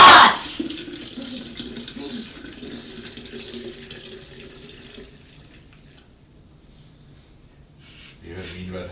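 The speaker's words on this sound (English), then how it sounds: "This, we pour it over the other ingredients in the jar to add sweetness to our year." Liquid pours from a container over mead-making ingredients in a jar, giving a brief gush at the start and then a thin trickle that fades, with people talking nearby.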